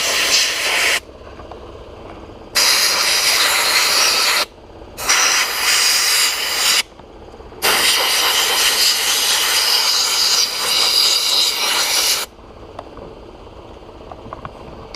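Glass bead blasting scours an oxidized Kawasaki KZ400 motorcycle engine, a loud, rushing hiss of air and grit that comes in several long bursts with short breaks between them and a low background hum underneath.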